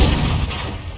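A single booming shot from the KV-85 tank's 100mm gun in a tank battle video game, loud and close with a heavy blast that rolls off over about a second.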